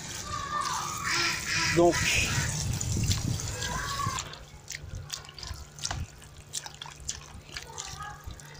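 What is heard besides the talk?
washing capers in water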